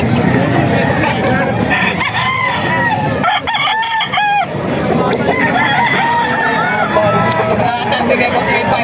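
Gamecock stags brought by a seller at a market in Bocaue, Bulacan crow loudly and repeatedly amid clucking, with a busy crowd talking and babbling all around.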